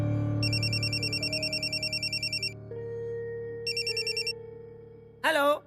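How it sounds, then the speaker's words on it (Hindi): A telephone ringtone trills in repeated electronic bursts, two rings separated by a pause, over background music in a Hindi television drama, followed by a brief voice-like tone at the end. "ए प्रकाश, जा और चुपचाप फोन उठा जा।"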